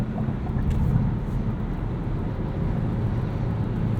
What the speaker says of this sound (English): there is just a lot of road noise and wind noise at speed on the highway